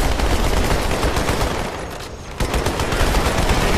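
Dense, continuous gunfire from the video game Halo 2 on Cairo Station, loud and rapid with a brief dip in the middle before the barrage resumes at full intensity.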